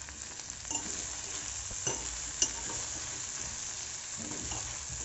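Okra with garam masala, dried red chilli, coriander-cumin powder and turmeric sizzles in a frying pan, with a few light scrapes and clinks of a spoon being stirred through it.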